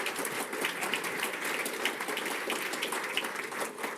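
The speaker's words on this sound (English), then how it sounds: "You can feel free to give them a round of applause." Audience applause at a corporate analyst day event after executives are introduced on stage, a steady wash of clapping from a sizeable crowd filling the whole stretch at moderate level.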